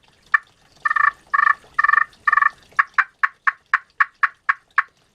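A glass turkey call worked with a carbon-tip striker gives a fall sequence: a few raspy grouped yelps, then a steady run of about a dozen evenly spaced sharp clucks, loud and close, with no talking.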